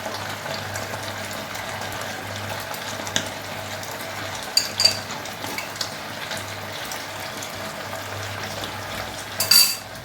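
Chicken pieces drop one by one into a pan of simmering chili chicken sauce, with a low steady bubbling under a few soft plops and clinks of a utensil against the pan.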